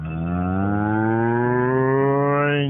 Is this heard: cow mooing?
yes